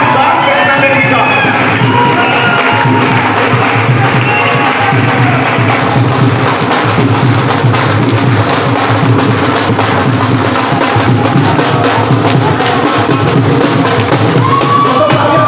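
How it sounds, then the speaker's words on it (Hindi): A large audience applauds and cheers while standing to welcome a guest at a Hindi-language seminar or event; a dense, loud, continuous wash of crowd noise with shouts runs throughout. "दोस्तों खड़े होकर तालियां बजाएंगे और स्वागत करेंगे उस शानदार पर्सनालिटी का"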